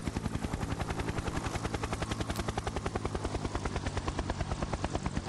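Helicopter in the video game Exfil: a loud, steady, fast rotor chop pulses evenly through the whole stretch, close and unbroken, with no talking over it.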